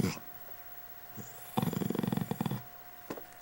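A dog vocalizing in a short, rough, growly burst of rapid grunting pulses, close to the microphone, preceded and followed by a few faint snorts.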